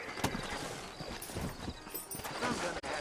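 Horse hooves clip-clop in a western town in the Red Dead Redemption video game, a quick, irregular run of close, crisp hoofbeats over a busy, noisy background with no talking.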